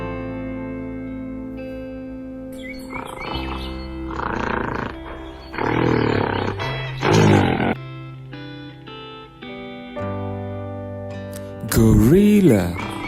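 Gorilla roars and grunts in several loud bursts over a sustained musical background, ending with a strong wavering roar.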